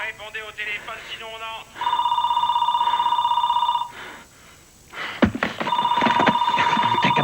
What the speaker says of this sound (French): Répondez au téléphone